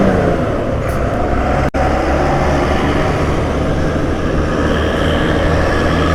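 Dense traffic with buses streams along the Klaten ring road: a steady, loud roar of passing vehicles that never lets up, broken only by a brief dropout near the middle.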